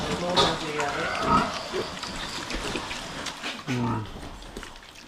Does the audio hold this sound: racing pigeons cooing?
no